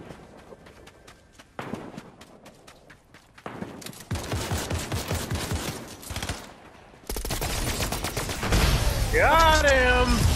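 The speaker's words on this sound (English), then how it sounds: "Somebody's shooting." Video game gunfire bursts out in rapid fusillades and single shots, mixed with running footsteps and game effects, while players talk over the action.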